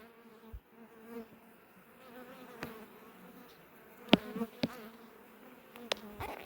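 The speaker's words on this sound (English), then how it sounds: "Those bees just emerged out of their cells. They are just freshly hatched." Honey bees, including freshly emerged ones, hum in a low, steady drone close by in an opened hive, with a few sharp knocks and clicks breaking through the buzzing.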